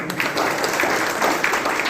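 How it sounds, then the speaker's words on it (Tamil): A trade association audience gathered in Kanchipuram gives a brief burst of applause, many hands clapping close and loud for a couple of seconds. "பெருமையாக கருதி ஒரு கைத்தட்டல் கொடுத்தோம்."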